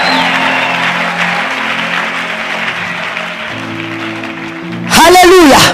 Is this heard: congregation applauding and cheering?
yes